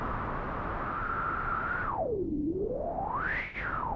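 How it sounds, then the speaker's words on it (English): Filtered noise from a Behringer 2600 synthesizer with reverb, the filter frequency sweeping down and back up like howling wind, a whooshing tone that rises and falls. "you can create this classic wind sound"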